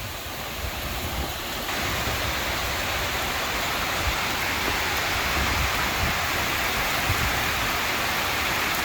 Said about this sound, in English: just look at this, pouring down again